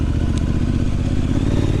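A 2021 Triumph Street Scrambler motorcycle rides off-road in sand, with a steady close engine drone mixed with clattering and light thumps from the rough ground.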